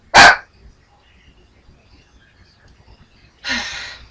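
A dog gives two sharp barks, one at the start and one near the end, loud and close, with quiet indoors between them.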